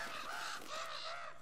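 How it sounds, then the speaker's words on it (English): Crows cawing in Uncharted: Drake's Fortune, a steady run of harsh overlapping caws close by, filling the whole moment with no voices over them. "Calm down, crows."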